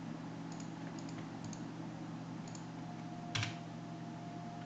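Keys tapped on a computer keyboard while entering a terminal command: sparse, quiet clicks in a few short bursts, then one firmer keystroke near the end, over a low steady hum with no talking.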